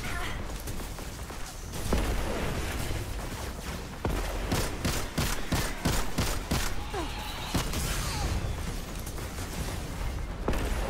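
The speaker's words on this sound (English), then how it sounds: "Their shots are so spammy, I can't even tell where they're going." Rapid enemy gunfire in a Destiny Nightfall mission, with dense spammy bursts of shots and impact thuds rattling on through the fight, steady and fairly loud with no voices.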